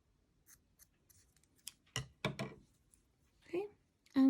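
Scissors snipping yarn from a small crocheted amigurumi chick wing, a few crisp close cuts with soft handling noises between.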